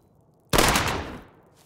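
In The Dungeon of Naheulbeuk, a single sharp shot from an enemy aimed at the party cracks out loudly after a short silence, then its noisy burst tails off over about a second.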